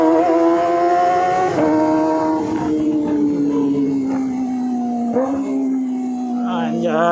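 A Kawasaki ZX25R inline-four motorcycle with an SC Project exhaust screams at high revs on an empty road, its pitch stepping down through several downshifts with brief blips, loud and close throughout.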